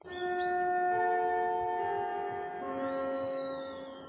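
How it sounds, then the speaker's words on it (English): A school bell chime used as an anime-style scene transition: several sustained, ringing bell tones layered together, sounding alone at moderate volume and slowly fading. "the standard bell sound from almost any school anime you've ever seen"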